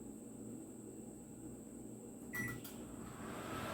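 A microwave oven hums steadily with a faint high whine while cooking gravy, then a few clicks and a brief beep sound before the hum continues.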